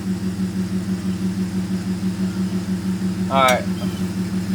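Supercharged Audi A6 revived after flood damage idles with a steady low hum that stays constant throughout; someone briefly speaks near the end over the running engine.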